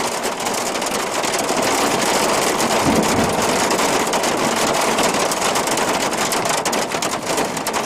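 Steady heavy rain during a stormy downpour with a deep rolling rumble of thunder from lightning, a dense, loud wash of sound with no voices.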